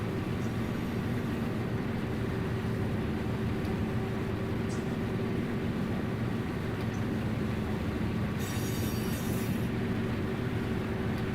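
Norfolk Southern DP freight train in the Run 8 rail simulator, a steady loud engine drone and rolling rumble that holds evenly throughout, with a brief higher hiss near the end.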